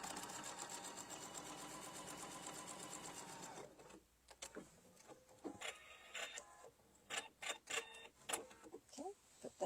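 Sewing machine stitching quilt blocks in a steady, fast whirring run for about four seconds, then stopping into quieter handling sounds and clicks.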